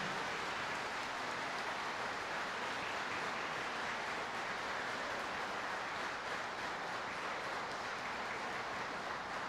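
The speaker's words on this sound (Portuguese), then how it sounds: "Dê uma salva de palmas a ele." A church congregation breaks into sustained applause, a dense, even wash of many hands clapping in a large hall, steady and unbroken for nearly ten seconds with no voices standing out.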